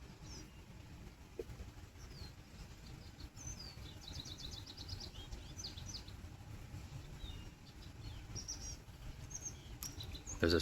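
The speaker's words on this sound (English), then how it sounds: "There's this bird in the distance that keeps making this sound" Faint bird calls repeat in short bursts far off, over a steady low background rumble.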